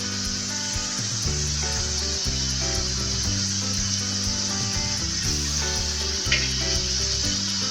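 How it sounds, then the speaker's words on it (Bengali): Spice mix for kadai paneer frying in oil in a pan, a steady close sizzle running throughout beneath sustained background music. "মশলাটি ভালোভাবে আবার একটু কষিয়ে নেব"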